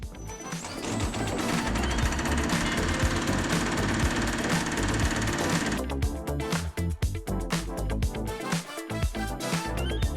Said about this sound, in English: I am thankfully getting a excellent demonstration of just how he's working the hammer